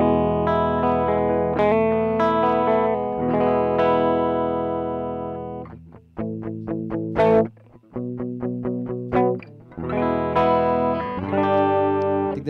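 Electric guitar through a Joyo King of Kings dual vintage overdrive pedal, loud and alone: sustained overdriven chords ringing, then a run of sharp, choppy picked stabs in the middle before full chords return.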